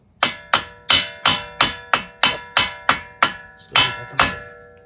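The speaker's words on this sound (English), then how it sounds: "let's see if I can move the axle. Just a slight tap." Eleven or so sharp metallic strikes ring out in an even rhythm as a hammer taps the passenger-side CV axle on a 2009 Lexus RX350 to loosen it. Each hit is close and loud, with a bright ringing decay.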